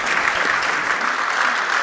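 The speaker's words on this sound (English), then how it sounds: "So a round of applause for yourselves, please." Steady, dense audience applause fills a 2025 Free Cities award ceremony hall, sustained and even from start to finish with no talking over it.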